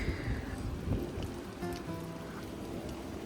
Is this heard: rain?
yes